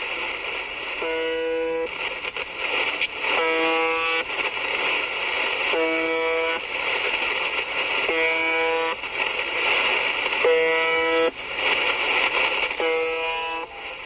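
UVB-76 shortwave radio station buzzer signal: a steady hiss of static carrying repeated harsh, droning buzzes roughly every two seconds, loud and continuous across the whole stretch.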